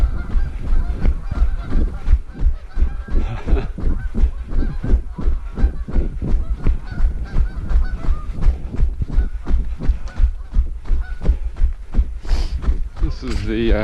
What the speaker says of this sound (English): Good view of the geese and everything here.